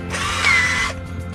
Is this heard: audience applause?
no